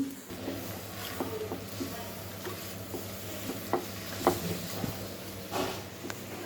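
Gongura (sorrel) leaves are stirred in a dry pan without oil, giving soft scraping and occasional light knocks over a faint low hum, with quiet stretches between strokes.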